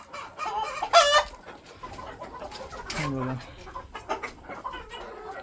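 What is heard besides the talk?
desi chickens clucking and rooster crowing on farm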